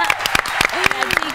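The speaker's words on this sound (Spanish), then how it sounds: "¿La aplaudimos?" A studio audience on a Spanish-language talk show applauds a guest for just over a second. The claps are loud and scattered, with a voice and a brief cheer mixed in.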